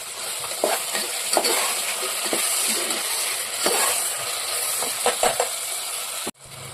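Green chilies fry in a pan with tomato as the base for an egg gravy. A steady sizzle plays under repeated scraping stirs of a spoon against the pan, close and fairly loud, until it stops abruptly near the end.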